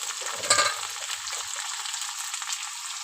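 Chopped cauliflower stalks hit a hot pan for a cauliflower bhorta, giving a brief louder crackle before settling into a steady, even sizzle.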